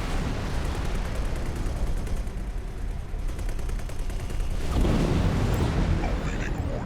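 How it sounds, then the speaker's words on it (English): Heavy, sustained gunfire and booming blasts roll on in the X4 space game as a ship is destroyed, with a louder explosive swell near the end and a voice faintly underneath. "Explosion imminent."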